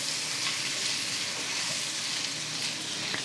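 Food for a salmon lunch sizzles steadily in a frying pan as it is stirred, a dense, even hiss that holds close and loud throughout with faint scrapes of stirring.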